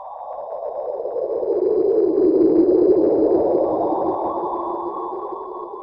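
A sonified X-ray echo bouncing off the remnant of a dead star swells into a smooth, hollow whooshing tone, with a faint thin whistle above it, then slowly fades.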